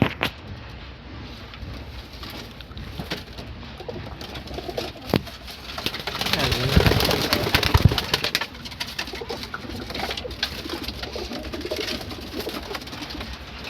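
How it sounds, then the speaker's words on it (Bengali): Pigeons kept at a home loft coo softly and repeatedly. Low murmuring calls overlap amid light rustling and wing flutters, and there is no talk. "দেখে নাও পায়রা।"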